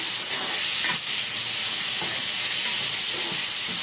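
Onions sauté in a pan with salt for onion chutney, producing a loud, continuous sizzling hiss with small scraping stirs that run steadily throughout, with no talking.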